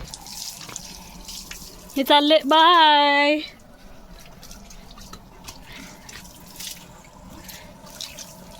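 Water runs from a hose pipe outdoors onto a tree while a dog plays in the spray. The flow gives a steady, faint splashing stream, and a voice breaks in loudly for a moment partway through.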